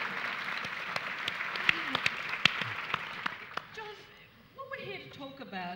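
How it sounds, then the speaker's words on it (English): Audience applause at a Mind & Its Potential talk, a broad wash of clapping filling the first four seconds, then fading as a voice begins speaking. "Give him a clap."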